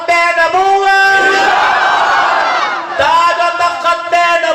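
A large crowd at a religious rally roars slogans in unison, loud, sustained chanting voices swelling in the middle then breaking into a fresh shouted call, close and dense throughout.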